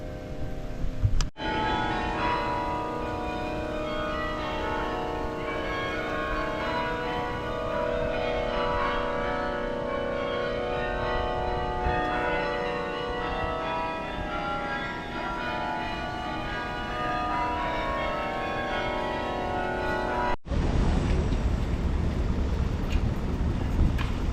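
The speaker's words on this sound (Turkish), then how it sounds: "Duyuyor musunuz bilmiyorum ama çan sesleri çalıyor bir yandan" Church bells in Rotterdam ring continuously from a distance, their tones overlapping and sustained, with wind noise underneath before the sound cuts off near the end.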